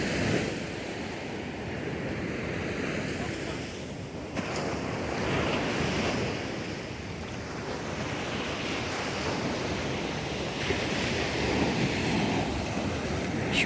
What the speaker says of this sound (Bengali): হ্যাঁ, কলম্বোর সি বিচ।